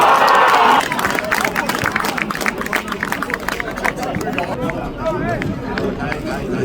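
Football fans of Torpedo cheer their team in a stadium during a match against Spaeri, a sustained roar of crowd noise and chanting with a commentator's voice over it.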